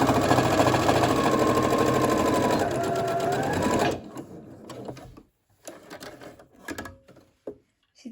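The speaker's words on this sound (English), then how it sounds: "I've got my fabric in place at the machine, so we are just doing a normal straight stitch straight down that 1 centimeter seam allowance" Sewing machine running a straight stitch along a seam in fabric, a fast whirring mechanical chatter for about four seconds, then stopping, followed by quieter clicks and handling sounds.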